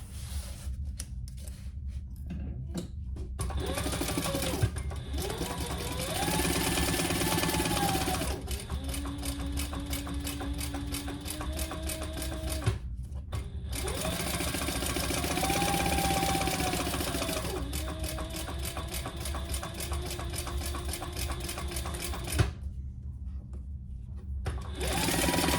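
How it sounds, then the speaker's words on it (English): A sewing machine bastes around the fabric of a mini sling crossbody bag in long, steady, whirring runs. The motor stops briefly a few times and its pitch shifts between runs. "And we're gonna baste that all the way around."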